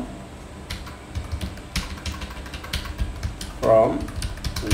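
Keystrokes on a computer keyboard while writing HTML, a steady run of light clicks and taps with a brief voice in the middle.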